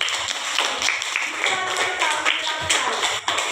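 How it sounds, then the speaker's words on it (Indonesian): Classroom group clapping for a young student about to present, a quick uneven patter of hands with children's voices mixed in beneath. "tepuk tangan buat Arka dulu."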